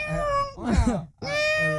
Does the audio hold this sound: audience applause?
no